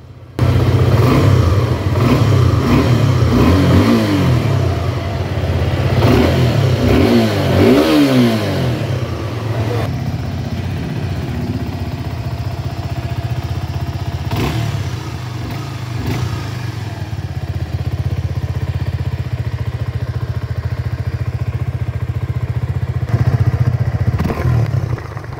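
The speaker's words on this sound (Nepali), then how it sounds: "अब हामी इन्जिन अन गरेर इग्निसन साउन्ड साथै यसको हाम्रो साइलेन्सर साउन्ड सुन्नेछौँ" A Suzuki Gixxer SF 250 motorcycle starts up and settles into a steady exhaust drone. Early on the throttle is blipped a few times with rising revs, then the engine idles loudly and close for the rest of the clip.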